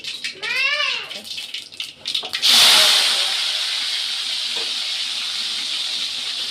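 Loud, steady sizzling of mustard seeds hitting hot oil, a bright crackling hiss that starts abruptly and continues, preceded by brief voice-like sounds.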